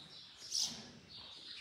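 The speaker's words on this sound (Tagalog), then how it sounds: "Dito, walang paniki. Meron puro ibon." A single short bird chirp rises briefly from a quiet, faint ambience.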